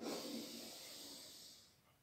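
A long, soft inhalation through the nose during a qigong breathing exercise, breathy and close, slowly fading over about two seconds.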